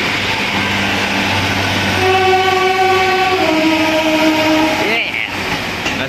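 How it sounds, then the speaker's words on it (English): A loud train rumbles close by at Exeter St Davids station, with sustained horn-like tones sliding downward as it pulls in, under a constant heavy roar. "Train now coming in is the 1343 from London Waterloo."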